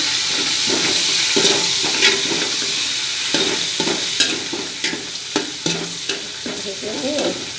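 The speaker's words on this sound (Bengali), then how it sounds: "আমি দিয়ে দিলাম 3-4টা তেজপাতা, 3 টুকরো দারচিনি, 6-7টা এলাচ, 4-5টা লং দিয়ে একটু ভেজে নিই" Bay leaves, cinnamon, cardamom and cloves fry in hot oil for a beef tehari. A close, steady sizzle is broken by repeated spoon scrapes and clinks against the pot, and these grow sharper toward the end.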